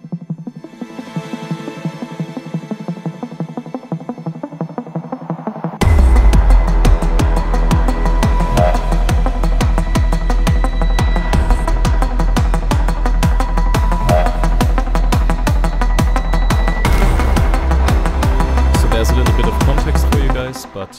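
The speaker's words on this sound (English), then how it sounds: "Today we'll make what's sometimes called a pulse bass." A Reason Antidote synth patch plays a film-score pulse bass arpeggio: a soft pad-like intro gives way to a loud, driving stream of rapid repeated bass and synth notes that continues steadily to the end, with no voices.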